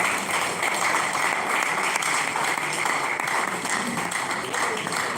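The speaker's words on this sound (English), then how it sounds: "A round of applause." An audience at a Nigerian Institute of Town Planners gathering in Oyo State applauds loudly and continuously, a dense, even roar of many clapping hands filling the room.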